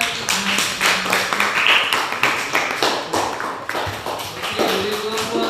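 Classroom applause from students during a group presentation session, a dense run of overlapping claps and taps sustained throughout at steady volume.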